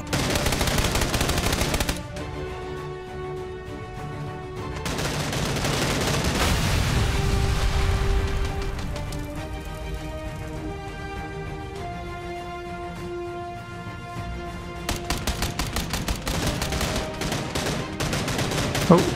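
Rapid bursts of automatic gunfire in the shooter game PUBG, loud and dense at the start and again near the end, with a stretch of music and game tones between the volleys.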